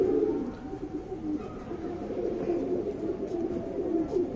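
Buri pigeons coo in soft, low, rolling calls that repeat steadily, close by, with faint background noise.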